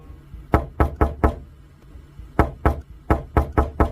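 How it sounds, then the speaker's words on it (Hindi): Someone raps on a door on a cold night, a close, hollow set of four quick knocks, then a pause, then a longer run of six or seven sharp blows. "लेकिन उसी पल दरवाजे पर दस्तक हुई।"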